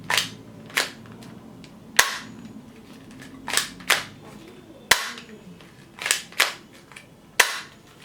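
Toy Nerf gun firing soft foam bullets, a series of about ten sharp snapping shots at irregular intervals, close and fairly loud, with short decays between them.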